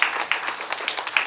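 An audience in a mandir breaks into a big round of applause, dense steady clapping with a few sharper individual claps standing out, fairly close and unaccompanied by speech.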